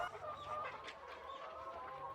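Chickens on a forest farm with no electricity cluck softly and continuously, a low steady flock murmur with faint overlapping calls and no voices.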